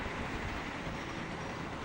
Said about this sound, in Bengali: তারপর একটা মাল ট্রেন দেখতে পাচ্ছেন যাচ্ছে